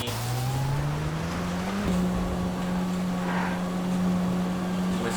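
A car driving on muddy, wet ground in GTA 5, engine tone rising steadily then holding a constant pitch, with a broad road and tire hiss underneath, continuous and close.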